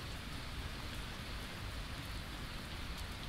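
Steady rain falls in the video game Blight, a constant even hiss of drops without pause, quiet and alone.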